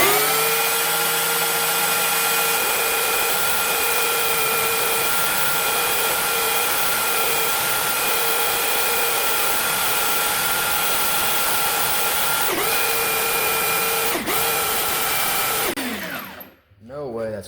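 A handheld sander clamped in a vise smoothing a crankbait lure, a loud steady electric whine with harmonic hum running continuously, briefly dipping as the lure is pressed, then winding down at the end.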